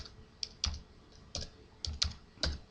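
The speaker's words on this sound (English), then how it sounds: "just type in TFTP boot." Keys clack on a computer keyboard as a TFTP boot command is typed into a serial console session, about a dozen crisp, close taps in an uneven rhythm with no talking.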